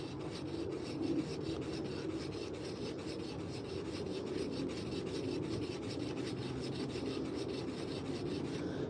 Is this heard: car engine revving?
no